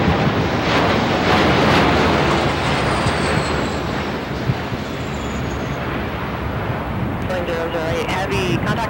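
A Boeing 747-8I Intercontinental on its first-flight takeoff, with a loud, steady jet engine roar and heavy wind buffeting the microphone throughout.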